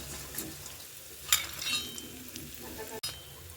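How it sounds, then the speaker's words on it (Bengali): Lentil badi fry in hot oil with a steady soft sizzle, punctuated by occasional spoon clinks and stirring scrapes, close and moderately quiet. "বড়িটা আমি ভেজে নিচ্ছি পূর্বের মতো, লাল লাল করে ভাজবো"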